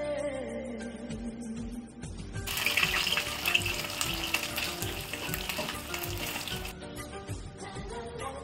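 Amudi fish frying in hot oil in a home kitchen, a steady bright sizzle that swells louder midway and then settles back, with faint clatter underneath.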